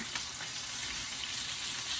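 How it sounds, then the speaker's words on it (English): Vegan oyster mushrooms fry in hot oil for a po'boy, a steady, dense sizzle that stays loud and even throughout with no voices. "But I think this really is best fried."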